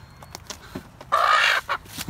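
Chickens cluck nearby in a coop, a short scatter of clucks followed by one loud, drawn-out squawk and a few more clucks. No talking.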